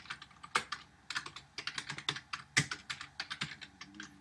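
Code is typed on a computer keyboard, with a quick uneven run of close, crisp key clicks and a few heavier strikes like the space or enter key, alone without talk.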